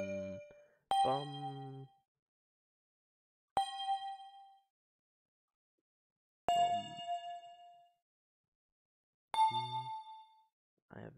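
Synthesized bell tones played in music software, five separate bright struck notes with rich harmonic overtones, each ringing and decaying for about a second, alone with no talk.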